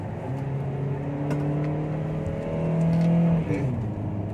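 A 2020 Perodua Bezza's engine strains while climbing a mountain road, a steady droning hum rising in pitch under load before dropping sharply near the end, heard from inside the car with a voice speaking over it.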